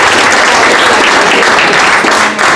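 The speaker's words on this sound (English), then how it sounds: "I'd like to just give a big round of applause" A meeting audience claps together in dense, loud applause that holds steady for a couple of seconds and then begins to thin.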